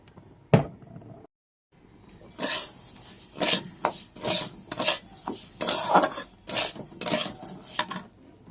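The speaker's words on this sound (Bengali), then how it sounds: "গোবিন্দভোগ চালটা খুব অল্প পরিমাণে ভেজে নেব, বেশি ভাজবো না।" Gobindobhog rice goes into warm ghee in a pan and is stirred with a spoon, making repeated scraping, rubbing strokes against the pan in an uneven rhythm, close by and fairly loud, after a brief clatter and pause.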